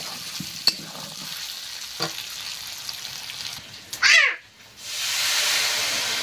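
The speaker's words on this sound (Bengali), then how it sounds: "কষাইটা হয়ে গিয়েছে, এবার কিন্তু জল ঢেলে দেবো।" Water poured into a pan of sizzling country-chicken curry: quiet cooking and a couple of clinks, then a sharp, sudden burst of hissing, a brief lull and a loud, sustained sizzle close by.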